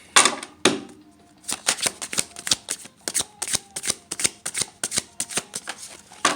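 Tarot cards are shuffled by hand before a draw, a close run of crisp riffling bursts in a quick, uneven rhythm with short pauses between them.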